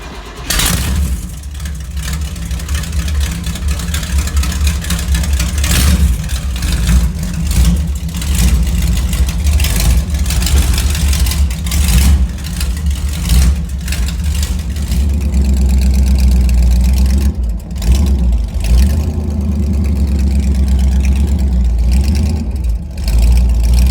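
A Squarebody Chevy engine running with open headers, a loud, close, deep rumbling idle with repeated throttle blips and revs that continue steadily for the whole stretch.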